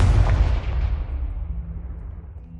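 A Confringo blasting spell explodes in Hogwarts Legacy: a loud, close, booming blast that rolls off into a long fading rumble, with no talking.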